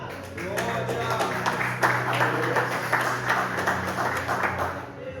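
A church congregation at a Tuesday evening service claps together in praise, steady rhythmic clapping filling the room while a voice speaks over it.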